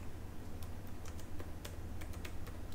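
Rapid keystrokes rattle on a computer keyboard while code is typed, coming in uneven bursts of clicks over a steady low hum, with no voice.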